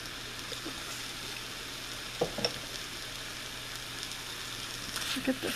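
Seasoned food browns in a pan with a soft, continuous sizzle, joined by a few sharp stirring scrapes around the middle and near the end, fairly quiet and close.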